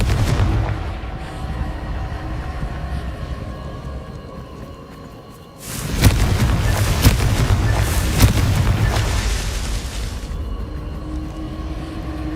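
Confringo blasting spell in the PS5 game Hogwarts Legacy, loud rumbling explosive bursts with a long booming roar in the middle, over a steady low game background.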